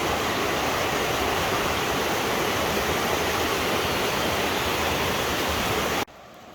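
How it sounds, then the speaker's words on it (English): Abrams Falls pours into Abrams Creek in a loud, steady roar that stays unbroken and close, then cuts off abruptly near the end. "we are here at Abrams Falls"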